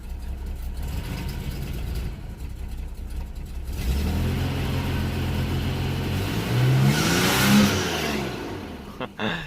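A 1987 Nissan Pathfinder's VG30i V6, fitted with a Weber carburetor, runs in neutral and is revved, the engine note climbing steadily in the second half to a loud peak before easing off, with no talk over it.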